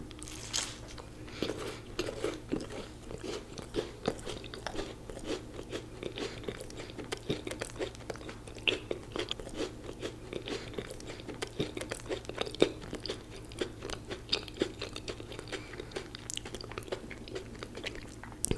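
A Crumbl caramel apple cookie loaded with apples is bitten and chewed up close, giving steady soft crunching and moist chewing for almost twenty seconds with no talk.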